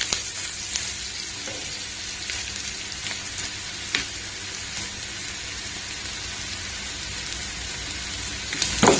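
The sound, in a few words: chicken frying in a pan with curry leaves and turmeric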